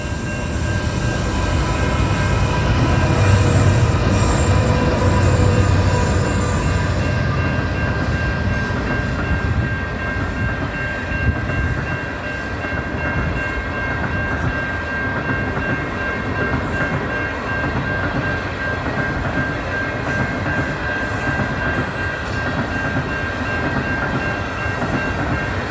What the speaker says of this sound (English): Yes, my first Ghan train.